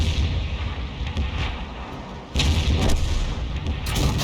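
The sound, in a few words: tank cannon firing in a tank video game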